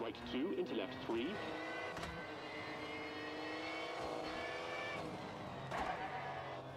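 A Rally1 car engine in the video game WRC Generations, running during a New Zealand shakedown stage: a steady, buzzy droning note with rising pitch sweeps and gear shifts, under a co-driver reading pace notes and a player talking.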